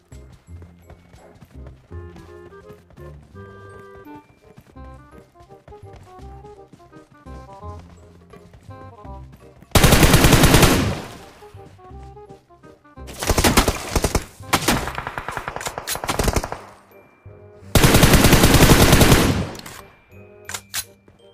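Automatic gunfire in the mobile game BGMI during an aggressive push to kill enemies; three loud, sustained bursts of rapid shots over background game music.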